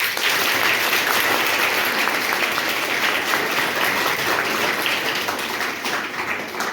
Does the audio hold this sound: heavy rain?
no